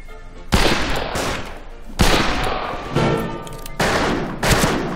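A revolver fires in the Western multiplayer shooter Fistful of Frags. Five loud, separate gunshots come roughly a second apart, and each one rings out into a short echoing tail.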